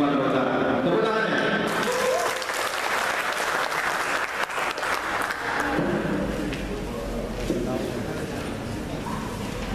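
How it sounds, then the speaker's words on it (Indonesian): Audience applause at a political education event for first-time voters in North Sumatra, steady dense clapping filling the whole stretch, loud and close, with a voice speaking over it. "Tepuk tangannya."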